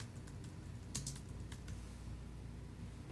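Fingers tap quickly on a computer keyboard, a close, quiet run of light key clicks with a brief burst of harder strokes near the start and steady soft typing after.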